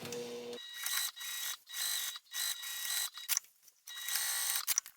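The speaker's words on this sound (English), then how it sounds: "I'm going to sew again with that seam allowance given in the pattern, back stitching" A sewing machine stitches a seam for a turtle tote bag, backstitching along the way: bursts of steady mechanical whirring broken by short pauses, close and fairly loud, with no talking.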